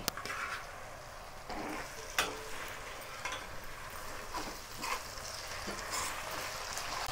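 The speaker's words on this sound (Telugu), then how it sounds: "చూడండి బోటి మంచిగా ఆయిల్లో ఎగుతున్నప్పుడే" Mutton tripe (boti) frying in oil for a gongura boti curry gives a steady, close sizzle with scattered sharp crackles and pops, with no talking.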